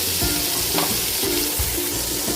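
Onion, tomato and crushed ginger-garlic paste fry in a pan with a loud, steady sizzle and crackle, plus a few stirring scrapes, close up with no voices.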